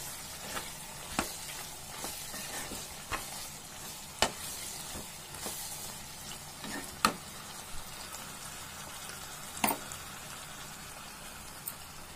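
Prawn pepper fry with curry leaves sizzling steadily in a pan, with a spoon scraping and tapping against the metal at irregular intervals; no voices.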